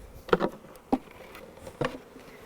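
Honey bees from a package being installed into a hive buzz in a few short, close bursts over a low, quiet background hum.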